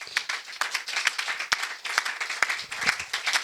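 A worship congregation claps and applauds through a prayer-day service, dense rhythmic hand claps mixed with cheering voices, steady and fairly loud with sharp individual claps standing out.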